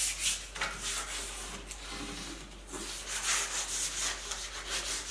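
Old wooden furniture being sanded by hand with sandpaper, a steady run of close, dry rasping strokes in uneven rhythm with no voices.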